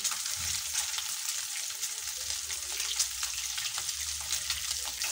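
Duck eggs frying in a pan, a steady close hiss and crackle of hot oil with scattered pops, continuous and fairly loud.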